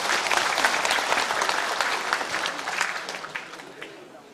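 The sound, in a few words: audience applause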